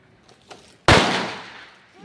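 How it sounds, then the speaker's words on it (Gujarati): A single loud firecracker bursts close by during Diwali celebrations, a sharp bang that rolls into a long fading crackle and echo, preceded by faint distant pops. "બધા ફટાકડા ફોડે છે"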